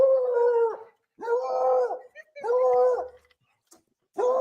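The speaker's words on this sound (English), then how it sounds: "Look at that dog." A dog howls in three drawn-out, wavering cries with short pauses between them, fairly close and loud, starting again at the end.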